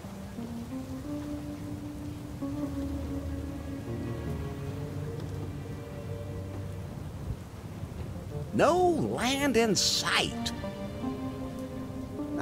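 Steady rain and rolling thunder from a storm at sea in the video game Leisure Suit Larry: Wet Dreams Dry Twice, a continuous wash beneath game music, with a louder thunder swell near the end while a voice speaks over it.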